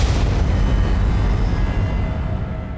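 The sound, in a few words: gunshot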